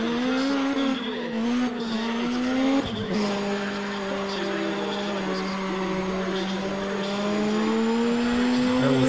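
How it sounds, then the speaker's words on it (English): Drift car racing in ProStreet, a steady engine drone with sustained tire squeal through the whole run, briefly broken by a sharp jolt near the middle, loud and continuous. "Almost going through it here with my drift car."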